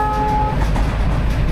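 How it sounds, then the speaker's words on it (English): An ALCo WDM 3A diesel locomotive hauls a passenger train on a Rajasthan branch line. A loud horn blast opens over the deep chugging engine rumble, which carries on steadily after the horn stops. "the continuous chugging and honking sounds"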